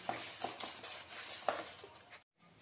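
A spoon stirs turmeric into a dish in a pan, making soft scraping and sizzling sounds with light, irregular clinks, then stops abruptly before a brief quiet end.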